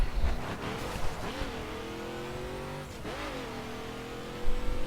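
A drag car in The Crew racing game accelerates through the Dallas streets, its engine note climbing in loud revving sweeps, dropping with a gear change, then climbing again.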